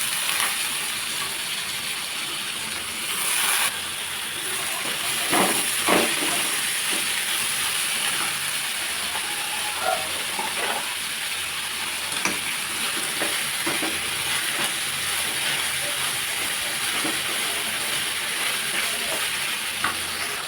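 Washed broad beans sizzle and fry steadily in a hot pan for a Telugu beans and tomato curry, a continuous loud crackle with occasional stirring scrapes and clinks, and no talking.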